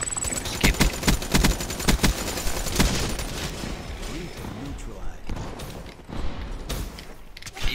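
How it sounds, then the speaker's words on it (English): Bursts of ICR-1 assault rifle fire in Black Ops 3 crackle in rapid, repeated volleys, with gaps between strings of shots and mechanical clanks mixed in during busy multiplayer combat. "He's using my favorite type of assault rifle. My favorite type of assault rifle is the ICR-1."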